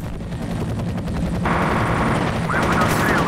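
Rapid bursts of gunfire in the game F.E.A.R. rattle continuously over a low rumbling background, growing louder midway, with a whistling sweep near the end.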